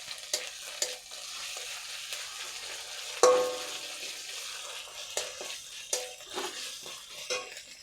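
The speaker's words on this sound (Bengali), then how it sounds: "ঠিক সেই টাইমেই আমি আদা বাটাটা দিয়ে দেব। এটা একটু ভালো করে এর সঙ্গে ভেজে নেব।" Ginger paste frying in goat fat for a chana dal recipe, stirred with a utensil; steady soft sizzle with repeated scraping clicks and one sharper clatter, close and moderate, no talking.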